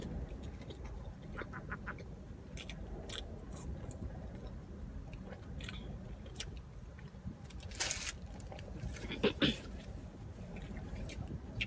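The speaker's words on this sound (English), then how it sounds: "If you guys could see all the birds that are out here right now" Seagulls calling outdoors: scattered squawks and cries, some sharp and nearer, over a soft, steady background murmur.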